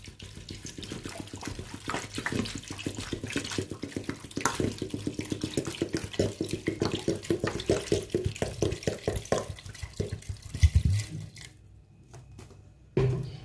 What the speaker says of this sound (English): Okay, you just pour the water inside.